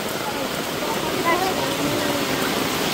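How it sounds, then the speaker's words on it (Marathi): Heavy rain falling in a village: a dense, steady broadband hiss that holds at an even level throughout, with no break and no voices over it. "पाऊस बघा किती पडतोय."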